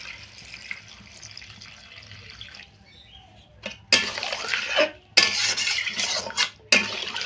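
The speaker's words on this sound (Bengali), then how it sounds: "এখন এর মধ্যে দিয়ে দেব গরম জল" Hot water poured into a frying potato and pointed gourd curry for a prawn dish, heard as bursts of splashing and hissing sizzle after a quieter stretch of pan noise, fairly close with no talk.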